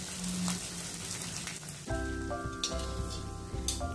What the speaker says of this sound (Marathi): हा असा चांगला तुपावर फुलवून घ्यायचा आहे डिंक मध्यम गॅसवर